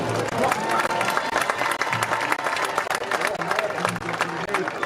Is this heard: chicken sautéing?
no